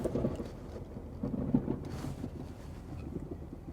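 Thunder from a thunderstorm rumbles low and faint through a few rolling swells, with soft rain and a little wind noise on the microphone and no talk.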